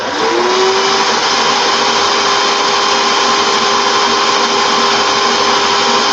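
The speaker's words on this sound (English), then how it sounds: "now I'm going to put my drill in reverse." A power drill spins in reverse during coil building, its steady high whine starting up and holding loud and close without pause.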